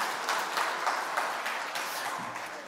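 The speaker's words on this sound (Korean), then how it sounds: "우리 박수 한번 주시죠." Congregation applause during an Easter Sunday church service, a moderate, steady patter of clapping that holds evenly for a few seconds.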